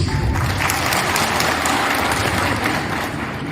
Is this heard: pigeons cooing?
no